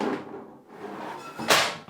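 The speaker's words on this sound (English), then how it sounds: "I'm taking off this door." A PC case side door comes off during a Battlefield 6-themed Intel Core Ultra 9 285K build: a muffled clunk and scrape, then a sharper knock as the panel releases, close and moderately loud.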